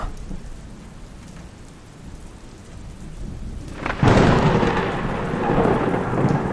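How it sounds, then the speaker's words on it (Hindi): Steady rain falls, then a sudden loud thunder crack from a lightning strike bursts in and rumbles on over the downpour, close and powerful. "सड़क के किनारे एक ताड़ के पेड़ पर बिजली गिरी।"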